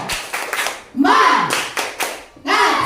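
Schoolchildren in a morning classroom give a rhythmic spirit clap, bursts of clapping alternating with a teacher's and children's chanted voices, loud and close.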